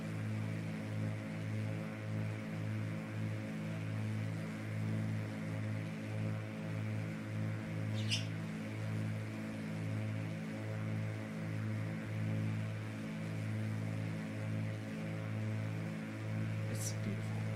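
Propeller aircraft engine in a flight simulator on a VATSIM VFR flight, a steady droning hum with pulsing low harmonics running throughout at even loudness, with two faint brief high chirps.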